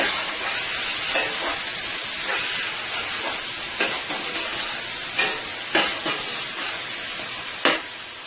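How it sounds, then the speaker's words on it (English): Onions sautéing in oil with scallion and tomato in a pan, giving a loud, steady sizzle and hiss close up, broken every second or so by scraping stir strokes, with no voices. "I'm going to let this saute for about 2 to 3 minutes."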